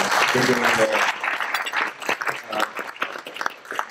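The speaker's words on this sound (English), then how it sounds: "I would like to give a round of applause to Carey." Audience applause for a speaker at an event, loud and dense at first, then thinning into scattered claps and fading, with some murmuring voices mixed in.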